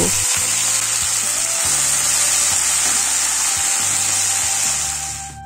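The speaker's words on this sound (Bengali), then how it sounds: "তেলটা গরম হয়ে গেছে এবার আমি ভেন্ডিগুলো ভেজে নেব" Okra (bhindi) frying in hot mustard oil in a wok gives a loud, continuous hiss and sizzle, with faint low knocks and scrapes of stirring throughout.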